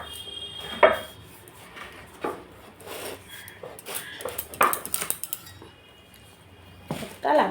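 A knife slices a bottle gourd (lau) into long pieces on a board, giving scattered scraping rubs and sharp clicks at an uneven pace. The sounds are close and fairly soft, with brief pauses between cuts.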